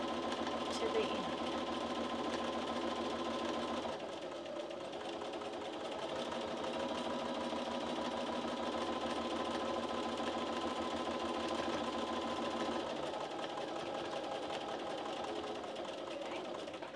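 A sewing machine stitches a straight quilting line with a walking foot, its fast, steady mechanical chatter running continuously and close up, dipping briefly near the middle, with a faint tonal background underneath.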